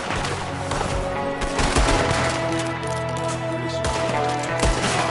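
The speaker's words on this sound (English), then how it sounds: "There's another one shooting from the window." Enemy gunfire in Red Dead Redemption 2 rattles in repeated sharp shots and volleys over a thick, continuous battle noise bed, fairly loud and steady throughout.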